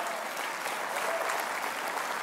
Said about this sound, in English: If I got a church that believes it, clap your hands and give God praise.